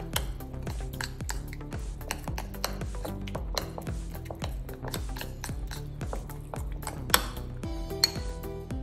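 A spoon works a thick honey-and-oil spice paste around a bowl, producing quick, rhythmic clinking scrapes against the sides that repeat steadily without pause.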